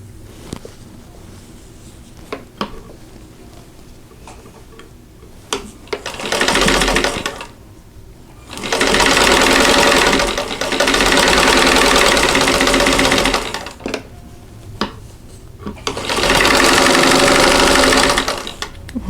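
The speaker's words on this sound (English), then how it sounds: "now I'm going to sew another square to the other side" Sewing machine stitching quilt squares for a jewel box block, running in three loud sustained bursts of whirring stitching separated by quieter pauses with small handling clicks.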